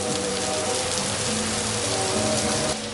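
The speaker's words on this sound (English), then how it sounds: "It is raining so hard." Heavy rain pours down steadily in a dense, loud, unbroken hiss of drops drumming on surfaces, with no voices.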